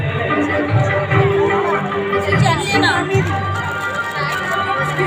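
Dense crowd of visitors chattering around a food stall at a busy fun fair, with overlapping voices and general bustle throughout, steady and close.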